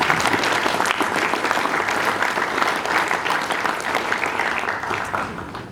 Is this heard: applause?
yes